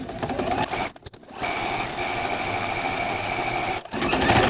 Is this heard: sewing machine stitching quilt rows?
yes